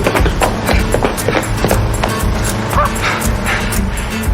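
A dog barks repeatedly and fast amid loud, busy commotion, with thumping footfalls and clatter running underneath.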